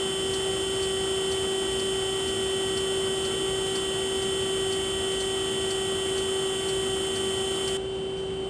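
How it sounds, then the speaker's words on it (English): Hydraulic power unit of an AMTEC integrated manufacturing simulator running normally: a constant electric hum with a steady tonal whine, unbroken until a slight drop near the end, no voices. "This is the way the hydraulic power unit should sound."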